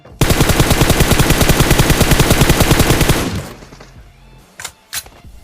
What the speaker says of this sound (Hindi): इतने में ही वहां पे गोलियां चलती हैं जहां पे हम लोग उतरे थे पहले